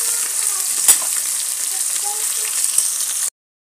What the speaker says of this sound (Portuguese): Vou fritar os peixinhos pra nosso almoço